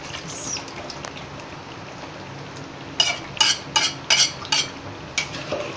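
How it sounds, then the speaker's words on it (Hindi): Spinach drops into a pan of browned mutton and potatoes for a Lahori palak dish, with a low frying sizzle first, then a run of sharp spatula scrapes and clatters against the pan in the second half, with no talk. "अब हम इसमें अपनी पालक डालेंगे"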